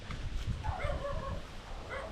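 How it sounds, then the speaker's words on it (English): Dogs bark and yip in short bursts at a lakeside holiday lodge by a carp fishing spot, some distance off, with a few whimpering, higher cries mixed in against steady outdoor background. "Sorry about the dogs"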